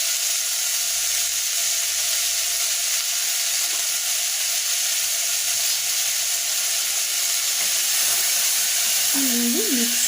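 Sprouted green gram sizzles in a pan with a steady, bright hiss that continues throughout, and a short tonal beep sounds near the end.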